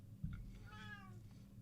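Single cat meow, a short drawn-out mewing cry near the middle, faint and close against a quiet indoor hum, preceded by a small bump.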